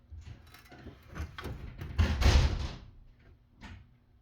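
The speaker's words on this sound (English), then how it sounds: "When he opened the door" A door swings open with a scraping, rumbling slide and a louder thump in the middle, close by, inside a room with a mud rocket heater, with no talk.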